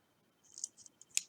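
Scissors snip through rosary bead cord in a few quiet, close, crisp clicks in an otherwise silent moment.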